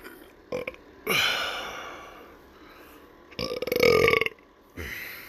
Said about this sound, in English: That was a lot of burping.